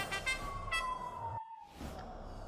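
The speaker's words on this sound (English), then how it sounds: "Don't worry about that siren sound." A perimeter patrol siren in a video game, a wavering electronic wail with repeated pulses that cuts out abruptly midway, then resumes faintly over a low background rumble.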